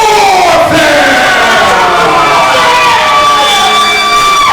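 A pro wrestling crowd roars loudly and continuously at a live event, a dense sustained wall of cheering and chanting with no pauses.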